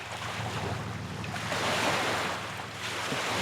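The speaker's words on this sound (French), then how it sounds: "Donc là juste le bruit des vagues, là c'est reposant." Steady rush of ocean waves washing in beside a large cruise ship at sea, broad and continuous, swelling slightly in the middle, with some wind noise over it.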